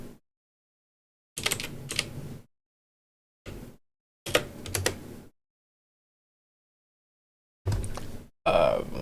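A computer keyboard is typed on in separate bursts of clattering keystrokes, close and fairly loud, with stretches of total silence between them.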